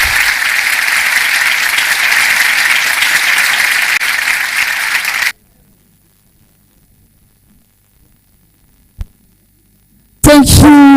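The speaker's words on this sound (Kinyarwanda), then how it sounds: "Amashyi" Applause at an award ceremony and gala dinner, steady loud clapping from a crowd for about five seconds, then abrupt near-silence with a faint click, followed by a sudden burst of other sound at the very end.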